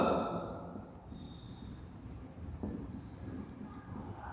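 Pen or chalk scratching out notes during a Hindi-language botany lecture, soft and close, with faint background hiss and light room noise.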